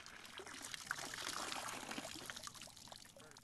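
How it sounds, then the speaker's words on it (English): A net dipped into and skimmed through a slow-moving stream near a trail gives steady close watery swishing and pouring sounds that build in the middle and taper off, with no voices. "Tom dips the net into the water and skims along the bottom of the stream."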